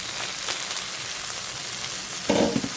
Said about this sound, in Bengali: এটা সুন্দর করে ভাজা হইতেছে